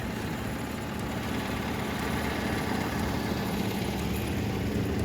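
Engine idling steadily while it warms up, outdoors in a forest, a dense, even low rumble that holds level for several seconds with no talk.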